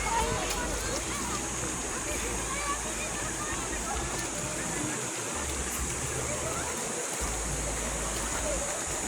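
The Bagsit River in Palauig, Zambales flows in a steady, broadband rush of moving water, close and continuous across the whole stretch, with low rumbling wind or handling underneath and a voice talking over it.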